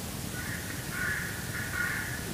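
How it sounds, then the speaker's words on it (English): Crows cawing in the horror video game Slender Rising, a few harsh repeated calls over a dense, eerie ambient background. "birds scared crap out of me"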